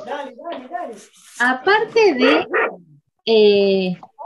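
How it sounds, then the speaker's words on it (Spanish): A small dog barks repeatedly in short, sharp yips close by, with a longer whining bark near the end, all set in an indoor room. "se escucha un perrito que ladra"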